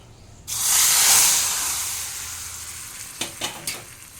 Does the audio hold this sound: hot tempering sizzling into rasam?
yes